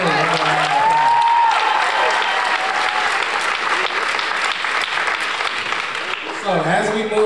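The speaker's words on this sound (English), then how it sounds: "Y'all give him a round of applause." Audience applause fills a choir concert hall, steady dense clapping for a performer with some cheering and voices mixed in, continuous and loud throughout.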